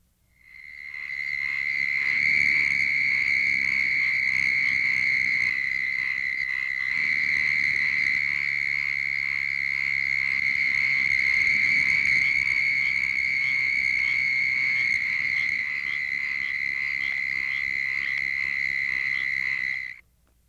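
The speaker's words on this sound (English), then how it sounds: "Here is a chorus of 50 southern toads with a few pinewoods tree frogs and some oak toads calling in a small pond" Large chorus of about fifty southern toads mixed with a few pinewoods tree frogs and oak toads calling from a small pond in open country near Placida, Florida; a dense, steady high trill runs continuously and loudly with no talk.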